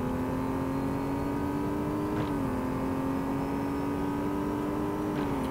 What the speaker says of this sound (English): You can drive around this circuit with no assists, reasonably fast